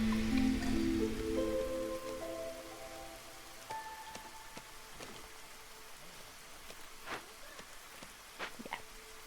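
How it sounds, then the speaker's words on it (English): Rain falls in the video game Against the Storm, a soft steady patter with scattered drips and a few sharper droplet ticks, fairly quiet, following a fading musical tone and with no talk over it. "It'll be fine shortly, because it's stopped raining now"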